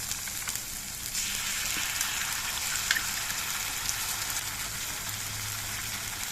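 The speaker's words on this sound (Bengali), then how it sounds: "পেঁয়াজ বাটাটা একটু লালচে রং হয়ে ভাজা হয়ে যাওয়ার পর এর মধ্যে দিয়ে দিচ্ছি একটা টমেটো পেস্ট" Onion paste frying in a hot pan with tomato paste stirred in, a steady dense sizzle crackling evenly throughout with no voices.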